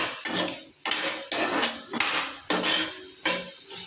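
Ginger and garlic added to softened onions and fried in a pan, heard as a series of sharp metal scrapes and clinks of a spoon against the pan over a faint sizzle, with no talking.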